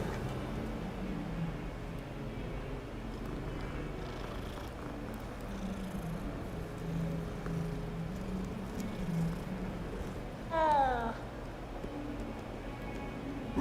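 A cat in the Hogwarts Legacy video game gives a single short meow near the end, rising out of a quiet, steady game ambience with faint purring-like background texture and no speech.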